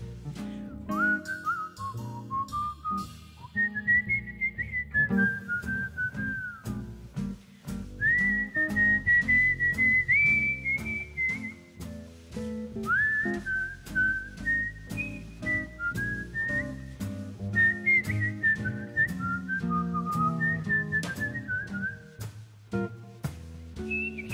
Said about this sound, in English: I'd whistle a little tune.